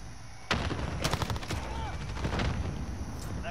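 Close rapid bursts of automatic rifle fire in a Call of Duty Modern Warfare multiplayer match, a sharp crack followed by a fast rattling string, with game sounds behind.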